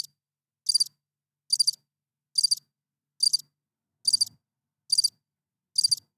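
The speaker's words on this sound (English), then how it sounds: "Yeah, crickets." Crickets chirp in short, regular bursts, roughly eight evenly spaced trills with silence between them, clear and close.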